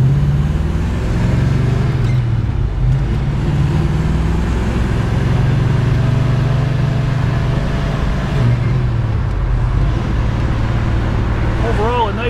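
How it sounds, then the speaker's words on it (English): A red 1966 Chevrolet Chevelle SS convertible on a hot Michigan test drive, a steady loud low engine drone and road rumble running unbroken the whole time. "We're test driving a 1966 Chevelle SS convertible."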